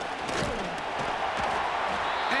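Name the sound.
stadium crowd in EA Sports football video game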